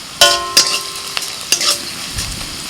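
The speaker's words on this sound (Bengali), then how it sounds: "রসুন পেঁয়াজ কাঁচা লঙ্কা ভেজে নিয়ে দিয়ে দিচ্ছি হলুদ গুঁড়ো জিরের গুঁড়ো একটু দিচ্ছি" Garlic, onion, green chili and spice powders frying in a pan as a utensil stirs, several sharp clanks and scrapes against the metal over a faint sizzle, close and loud, with no speech.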